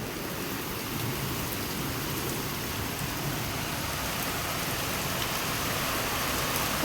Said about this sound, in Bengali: এখন তো প্রচুর বৃষ্টি হচ্ছে, কারেন্টও চলে গেছে।